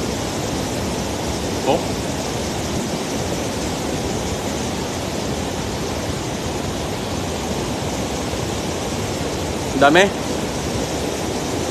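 A strong river current rushes in a broad, steady wash of water noise throughout, with brief voices speaking over it twice during river fishing for flathead catfish.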